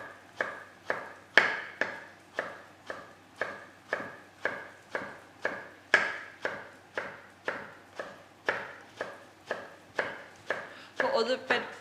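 A knife chops vegetables into thin matchsticks on a board, about two dozen crisp, evenly paced cuts close by, with no talk.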